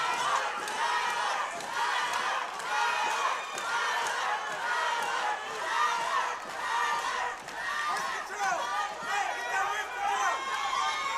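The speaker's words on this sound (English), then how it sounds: "Tyler supporters behind us cheering him on" Crowd at a Kansas City Fighting Alliance MMA event cheering on fighter Tyler Berg, a continuous roar of shouting and yelling voices at moderate level, with a commentator talking over it.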